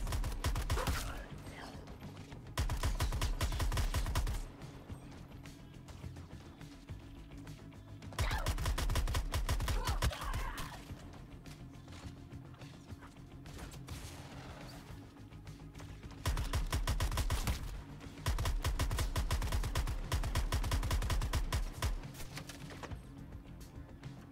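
Gunfire in the video game Suicide Squad Kill the Justice League, played on a Steam Deck OLED: loud, dense bursts of rapid shots lasting several seconds each, broken by quieter gaps of background game ambience.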